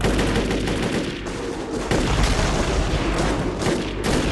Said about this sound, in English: They're trying to gun him down.